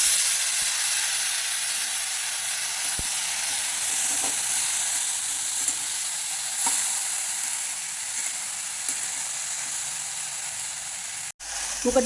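Corn kernels fry with cumin and green chili in a pan, a steady loud sizzle that holds throughout with a few faint clicks and stirring taps.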